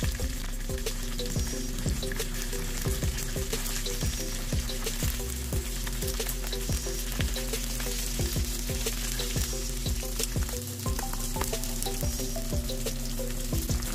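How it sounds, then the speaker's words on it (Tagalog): Buffalo chicken wings sizzle steadily in hot oil during a second frying for extra crispness, a dense continuous crackle with regular soft clinks or stirring taps throughout, close and fairly loud. "isasalang na ulit natin ang pangalawa para mas lalong crispy yung ating gagawing buffalo chicken wings"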